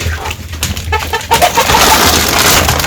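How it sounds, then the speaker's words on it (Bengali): Chickens being fed in a village yard cluck and coo close by, with soft pecking and rustling that grows into busy scratching noise toward the end, and no talk. "মুরগির খাবার দিয়ে দিলাম, মুরগি খাইতেছে এখন"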